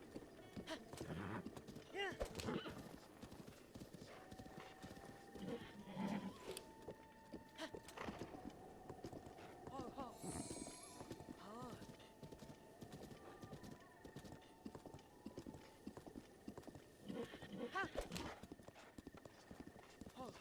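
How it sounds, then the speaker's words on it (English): A horse in the Breath of the Wild video game gallops with fast, steady hoofbeats throughout, with a few neighs mixed in and someone talking over the top. "if you get separated from your horse, you can whistle and it will come running"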